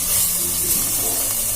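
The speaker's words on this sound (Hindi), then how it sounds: "हमारे कढ़ाई में डालेंगे पालक की प्यूरी।" Spinach puree poured into a hot kadai gives a loud, continuous hiss and sputter close by, steady throughout with no pauses.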